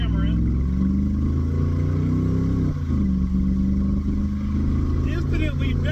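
A car with a new, still very rich-running engine accelerates hard on the road, a loud sustained engine roar rising steadily in pitch under a voice talking over it.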